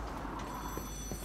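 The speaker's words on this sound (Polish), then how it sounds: "Telefon!" Telephone ringing inside the video game Lies of P, a steady bright ring sustained over low ambient game background, fairly faint and alone without talk.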